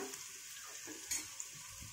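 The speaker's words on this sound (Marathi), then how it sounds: "कांदा चांगला लालसर करून घ्यायचा आहे आपल्याला" Chopped onion frying in a pan with garlic-ginger paste for a mutton curry, a soft steady sizzle with a brief louder scrape or stir partway through, close and quiet, no voices.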